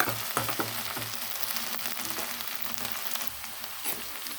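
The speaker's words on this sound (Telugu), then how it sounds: "మధ్య మధ్యలో కలుపుతూ ఉండాలండి సిమ్లో పెట్టుకోవాలి అప్పుడే బెండకాయలు మగ్గుతాయి" Okra fries in a pan over a low flame with a soft, steady sizzle, broken by scraping and clinking as it is stirred, close and fairly quiet.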